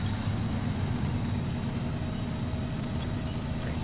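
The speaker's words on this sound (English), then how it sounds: "We'll drag the Chev through the water" A truck in the SnowRunner video game winches a Chev through water, heard as a steady, dense low engine rumble with a constant broadband wash and no distinct events.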